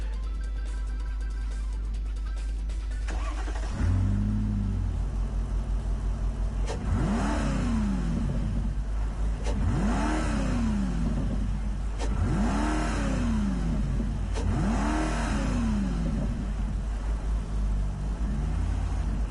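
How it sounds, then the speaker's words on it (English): A race car engine in the video game Gran Turismo Sport revs up repeatedly, rising and falling about five times in a steady rhythm, loud and close, with a faint ticking before each rev. "There's a weird ticking noise that seemed to occur every time that, like, just before it revved up."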